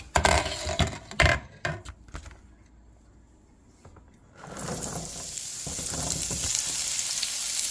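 Sweet potatoes going into hot oil in a frying pan, with clattering as they drop in, then a steady bright sizzle that builds and holds close and loud to the end.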